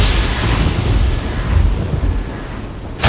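A deep rumble of thunder rolls on for a few seconds, with a sharp crack near the end.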